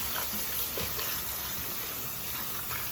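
Running water splashes steadily over a soursop tree branch as it is rinsed clean, a continuous close hiss of tap flow with no talking.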